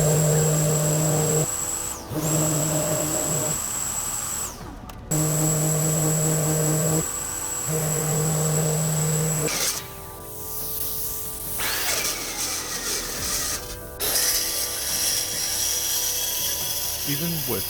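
Power grinder working down nails on a reclaimed bowling alley lane table, a steady loud whine broken by several stops and restarts, with rougher grinding contact toward the end.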